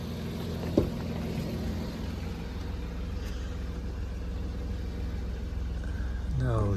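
A 2008 Jeep Grand Cherokee engine runs steadily at idle with a low continuous hum, close and fairly loud throughout, with a brief knock near the start and a short rising whine at the end.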